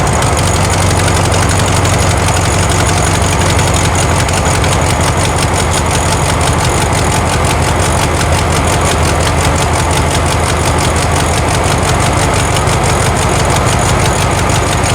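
A 1972 VW Karmann Ghia engine runs steadily during carburetor tuning, giving a loud, close, continuous idle with a rapid rhythmic chug that holds for the whole stretch.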